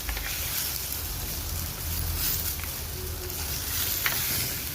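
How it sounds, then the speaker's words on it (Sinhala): Fish pieces fry in hot tempering oil, giving a steady broadband sizzle with soft stirring scrapes throughout, close and moderately loud with no speech. "මාළු එකත් මේ ටෙම්පරාදු එකේ පොඩ්ඩක් එහෙට මෙහෙට දාලා බැද ගන්න."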